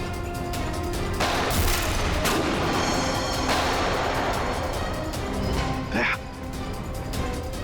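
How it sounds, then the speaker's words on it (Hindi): Dense, continuous gunfire and heavy booms fill a snowstorm scene, with sharp bursts standing out over a loud, chaotic battle din. "गोलियां चला कौन रहा है?"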